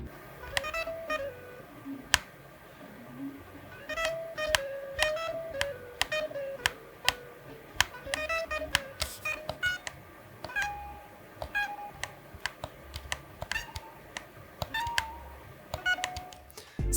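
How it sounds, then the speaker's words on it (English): Rapid buzzing beeps and clicks in quick, uneven bursts, with short melodic blips of game-like block tones played through a Gamesir Nova controller's rumble motors, close and fairly quiet. "you're gonna hear the sound of these blocks through the rumble motors"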